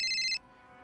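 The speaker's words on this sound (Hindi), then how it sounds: "फोन बज जाता है" A telephone ringtone sounds in a single bright electronic burst that cuts off abruptly, leaving quiet room tone.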